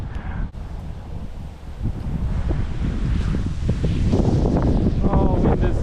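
Wind gusting across a mangrove creek during a fishing session for barra and mangrove jack, buffeting the microphone as a steady loud roar with faint water and rustling beneath, continuous throughout.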